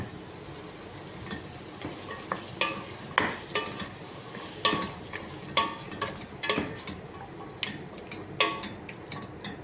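Capsicum and dried pieces fry in a pan for a curry, giving a continuous crackling sizzle with frequent sharp ticks and pops at a steady close level and no talking.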